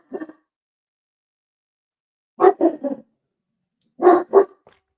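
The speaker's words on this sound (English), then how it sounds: "I don't know what she's barking at, guys." A pet dog named Ember barks indoors, one short bark, then a pause, then two quick bursts of three and two sharp barks, fairly close and alone.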